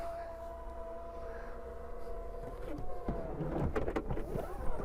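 A Peugeot 5008 tailgate being pushed shut over the seats in the load space, with a steady mechanical hum giving way to a series of clunks and knocks, close and moderately loud.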